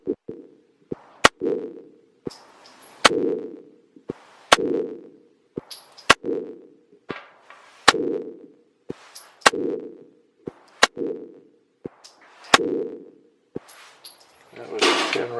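Target practice with an M&P 10 rifle, a dozen or so loud sharp gunshots fired one by one at a steady pace, each followed by a short echoing tail, with voices in between.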